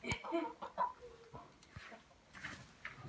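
Chickens clucking in a farmyard, several short irregular clucks and calls nearby, fairly faint, with some low background noise between them.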